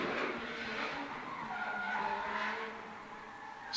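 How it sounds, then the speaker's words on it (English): A drift car's engine screams under hard acceleration during D1NZ drift qualifying in Tauranga, New Zealand, while tires squeal continuously, loud and close for the whole stretch. "But it's David Hunter out for his first run in qualifying on the loud pedal. Mashes the gas"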